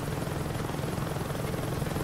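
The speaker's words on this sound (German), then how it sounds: "da fliegt gerade ein Helikopter rum." Helicopter in the video game Saints Row 2 flying nearby, its steady rotor drone loud and continuous throughout without a break.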